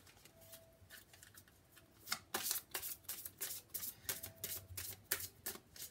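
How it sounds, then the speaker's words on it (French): Tarot cards being shuffled by hand, a quiet run of crisp riffling bursts in quick irregular succession, close and faint, with no talk over it. "Je remélange mes cartes"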